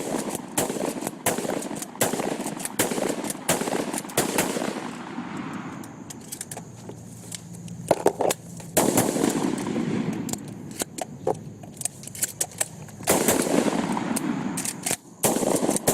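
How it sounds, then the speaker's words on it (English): Adler lever-action shotgun and a standard double-barrel shotgun firing ten shots in a race, loud sharp reports in irregular clusters, some close together and others spaced, with brief quieter gaps between volleys. "a race between the Adler and stock standard double-barrel shotgun to fire off 10 shots"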